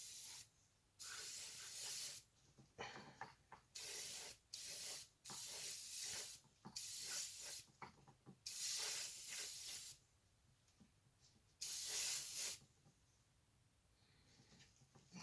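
An airbrush sprays paint onto a Tamiya 1/48 scale BA-64B armoured car model in about ten loud, close hissing bursts of one to two seconds each, with brief quiet gaps between them.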